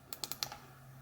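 A button on a Nitecore HC50 headlamp is pressed, giving several quick light clicks close to the mic in a short burst, followed by quiet.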